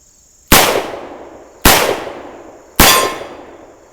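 Three loud shots from a Taurus Model 65 revolver fired in double action, each a sharp crack followed by a decaying ring, evenly spaced about a second apart over a faint hiss.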